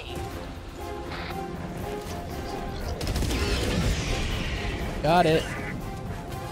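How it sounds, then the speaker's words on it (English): Artillery fire in the video game Helldivers 2, rumbling blasts and bursts of shooting with a sharper crash near the end, heard under a player's talking. "They're shooting artillery."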